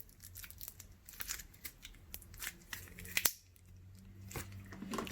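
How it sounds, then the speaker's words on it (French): Heart-shaped slime is squeezed and worked by hand close up. Soft, irregular squishes, crackles and small pops come through quietly without any talk. "Écoutez le bruit."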